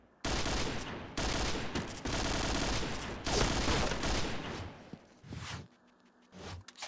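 Loud rapid gunfire in the shooter game Point Blank, several long automatic bursts in quick succession, then fading to a few scattered shots and quieter handling clicks near the end.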